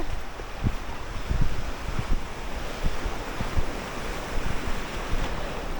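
Sea waves washing ashore at Saint Martin's Island on a morning, a continuous surf wash with soft recurring breaks, mixed with wind buffeting the microphone, no voices.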